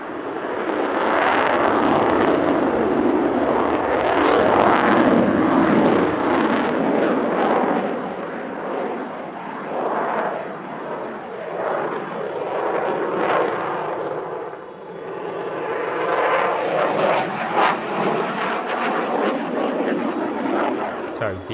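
A Eurofighter Typhoon jet at an airshow roars loudly as it accelerates out of a slow pass into a loop, its engine rumble swelling and fading, with a commentator's voice over it.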